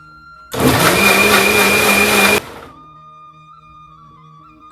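A blender roars loud and steady for about two seconds, grinding a ragi smoothie with almonds and walnuts, then cuts off abruptly, leaving a faint motor hum and a closing thunk.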